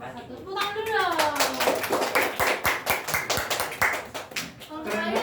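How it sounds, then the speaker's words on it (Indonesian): Classroom audience clapping for a student group after its presentation, a dense burst of hand claps lasting several seconds with children's voices talking over and around it. "Tepuk tangan dulu dong."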